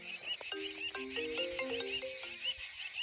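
A phone ringtone plays a looping electronic melody of stepped tones, fairly faint, with no talking over it.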